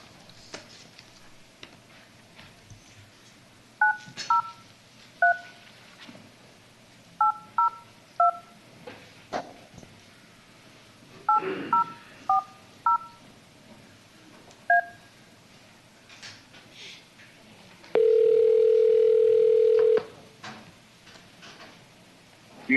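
Someone dials out during a county commissioners court meeting: several bursts of touch-tone beeps in quick groups, followed by a steady tone that holds for about two seconds. The sounds are clear and close, with no talk over them.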